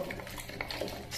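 Salt water and Clorox mixture being stirred in a container, producing faint, soft scraping and light clinking taps scattered through the moment, close and quiet with no talk.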